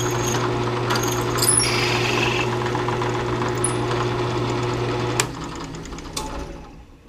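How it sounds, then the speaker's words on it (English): A drill bores a counterbore into a MacBook A1435 power supply cable fitting, a steady motor whine and grinding held for about five seconds before spinning down, with a few sharp clicks near the end. "next, we're going to drill this counter bore here"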